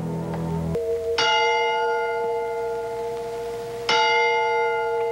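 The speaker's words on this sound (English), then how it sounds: "Who's ringing that bell?" A church bell rings twice, each clear metallic strike followed by a long shimmering decay, after a short low tone at the start; no voices.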